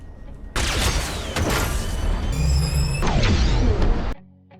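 A rocket blast in an action film, the projectile built from Eternium, erupts as a loud, dense burst of crashing debris and rumbling booms that carries on for several seconds before cutting off abruptly.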